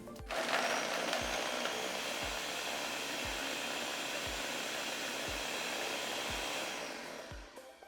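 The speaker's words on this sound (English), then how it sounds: "I blend." Electric blender whirring steadily as it purées frozen bananas and strawberries into ice cream, a loud continuous motor drone with rhythmic low thumps from the churning fruit, then slowing as it switches off.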